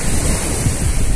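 Ocean waves wash onto a beach on the Indian Ocean coast in a dense, continuous rush of surf, loud and close, mixed with buffeting wind on the microphone and no talk.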